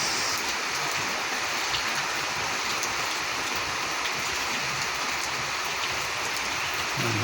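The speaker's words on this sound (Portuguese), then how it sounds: "A noite inteira ainda chovendo aí" Heavy rain falls steadily at night in Curitiba, Brazil, a dense, continuous hiss of water pouring down and splashing on surfaces, unbroken and fairly loud throughout with no voices.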